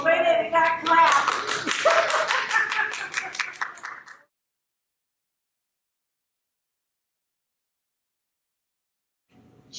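Graduation ceremony audience clapping and cheering in a quick, dense burst for about four seconds, with voices mixed in, then abrupt silence before faint sound returns at the end.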